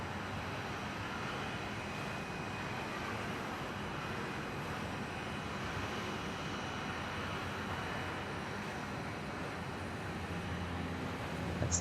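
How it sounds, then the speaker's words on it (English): A Dash 8 turboprop airliner rolls and lifts off at Perth Airport, its steady broadband engine roar and propeller drone holding loud and constant throughout, heard from a spotting position with no talk. "That's the Dash 8."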